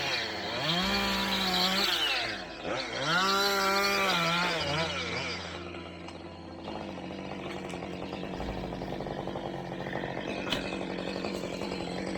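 A chainsaw revs and bogs as it cuts a notch into a tree along a forest road, with rising and falling engine pitch early on, then a steadier run at moderate distance.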